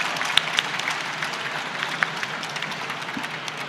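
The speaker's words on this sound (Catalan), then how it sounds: "Un aplaudiment per la Kazuha i en Heiji Hattori." An audience at a manga convention talk in Barcelona claps in a modest, moderately distant round of applause, steady patter with a few sharper claps.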